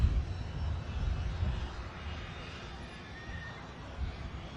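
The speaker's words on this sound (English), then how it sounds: "Beautiful little jet." An EasyJet jet airliner flies near Manchester Airport over Stockport, its engine a steady, fairly distant broadband roar that holds low and even throughout, with light speech underneath.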